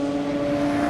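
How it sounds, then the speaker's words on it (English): A Ford GT40's V8 engine holds a steady, droning note at close range for about a second, with a strong low hum and no voices. "It sounds like the GT40 has just started up,"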